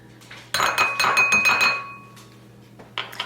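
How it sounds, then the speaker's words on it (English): A metal spoon clinks and taps against a bowl while three tablespoons of olive oil go in for a vegan Thai pizza's garlic topping: a close burst of clattering dish contact, a quiet pause, then a few more clinks. "take 3 tablespoons of olive oil and put it in a bowl"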